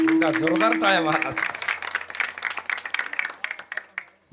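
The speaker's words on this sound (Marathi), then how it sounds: "जोरदार टाळ्या महाराज" Audience clapping breaks out at a Marathi kirtan about Chhatrapati Shivaji Maharaj, a dense patter of applause that rises as a chanted line ends and then thins into scattered claps.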